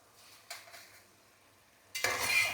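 Kosha aloo dum being stirred in a pan with a little ghee added: faint scraping at first, then a loud burst of stirring and sizzling near the end, close by, with no voices.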